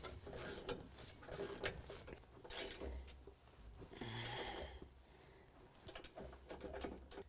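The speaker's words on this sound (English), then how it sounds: "we can use a 5/8 socket and wrench to tighten down our steering stabilizer bolt" A 5/8 socket and wrench tighten the steering stabilizer bolt on a drag link bracket of a 2017 Ford F-250 Super Duty during a 6-inch lift kit install, with close repeated mechanical clicking and rattling in short bursts.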